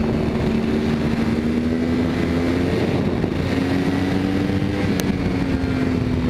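Sportbike accelerating in second gear at about 45 to 50 mph for a wheelie, a steady engine drone with a slowly rising pitch, heavy wind rush over the microphone throughout.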